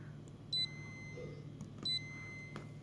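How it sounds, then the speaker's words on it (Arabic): A Kiriazi 7-drawer deep freezer control panel sounds two short, high electronic alarm beeps about a second and a half apart, clear above a low, steady hum in a quiet room. "شايفين اهو عمل لي صوت انذار كده وعلامة القفل دي"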